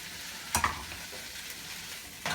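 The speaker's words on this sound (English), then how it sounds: "Alright, I've rinsed and chopped my leeks, so I'm going to saute them." Chopped leeks sauté in butter and olive oil with a soft, steady sizzle, broken by a couple of sharper utensil clacks from stirring, close and moderately quiet.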